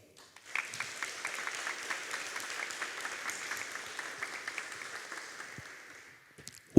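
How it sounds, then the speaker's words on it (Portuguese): A church congregation breaks into applause during a priest's homily, a steady roomful of clapping that starts abruptly, holds evenly for about six seconds, then fades out before a short knock at the end. "Essa é a hora que você aplaude."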